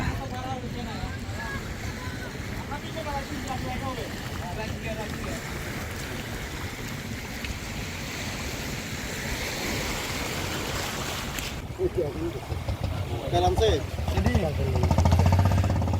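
A fishing trawler without a cabin roof, out for hilsa near Sandwip, chugs steadily across open water. Its low engine drone and the wash of the waves run throughout, with people talking over them, and the motor swells louder near the end.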